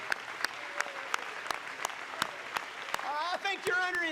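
Evenly spaced, rhythmic handclaps from a church congregation, with voices rising over the clapping toward the end.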